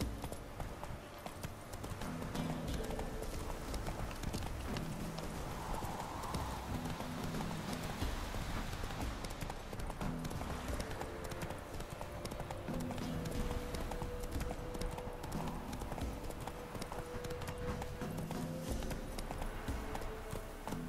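A horse gallops in The Witcher 3, its hoofbeats drumming in a fast, even rhythm under a constant hiss of game ambience for the whole stretch, moderately quiet and with no pause.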